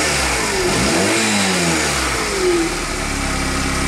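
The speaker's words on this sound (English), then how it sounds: "It's running okay. Can rev it up just fine" A Honda Rebel CA 125 motorcycle running on old petrol revs up and settles, a loud close engine drone with rising and falling pitch across a few seconds, no talk.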